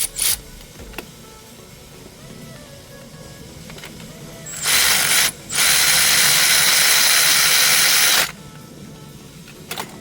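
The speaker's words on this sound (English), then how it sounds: "I have the deep socket with a short extension there, and that's how I'm gonna get it tight." A ratchet with a deep socket and short extension tightening a bolt during a Toyota Corolla E210 water pump and thermostat job, quiet scattered clicks and then two loud bursts of rapid ratcheting, the second running a few seconds.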